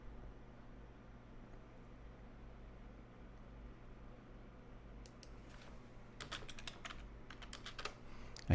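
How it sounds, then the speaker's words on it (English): Keys on a computer keyboard tapped in quick irregular bursts during the second half, faint and close, over a low steady hum that fills the quieter first part. "I hate typing."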